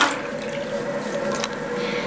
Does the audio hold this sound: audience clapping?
no